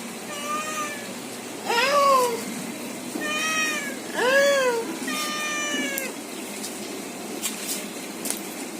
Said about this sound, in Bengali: ম্যাও করছে দেখো